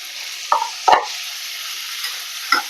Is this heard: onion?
yes